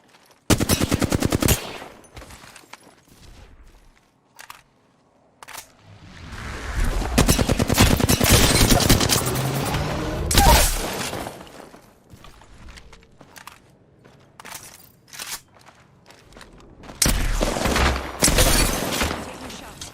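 Gunfire in the Apex Legends video game, with bursts of rapid automatic shots and shorter volleys separated by quieter gaps, loud and close, with faint footsteps and impacts between bursts.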